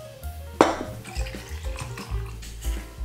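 Cold brew coffee poured from a mason jar over ice in a glass, with a sharp clink of ice and glass at the start followed by gurgling pours and light clatter, close up with no talking.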